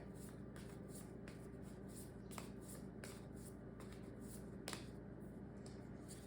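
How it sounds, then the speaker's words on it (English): Tarot card deck being shuffled, a quiet, continuous papery riffling with rhythmic flicks and a few sharper snaps, heard alone without talk. "I actually also shuffled the deck differently."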